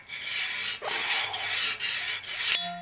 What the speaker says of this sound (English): recurves can be sharpened with flat rectangular stones as well